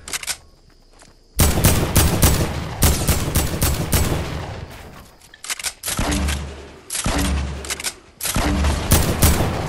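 Rapid bursts of gunfire in the Fortnite video game, loud clattering volleys that start and stop in quick succession, each spray firing off several shots in a row.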